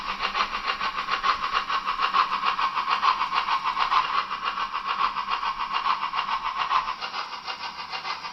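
A Märklin Albatross model locomotive with a flywheel drive and mfx Plus decoder runs steadily on a tight layout, giving a continuous close whirring hum with a faint rhythmic ripple and no talk.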